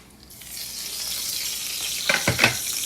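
Bacon frying in a pan, alongside a dish of sautéed onions and apples. A bright sizzle swells up and holds steady, broken by a few louder crackles and spatters near the end, with no talking.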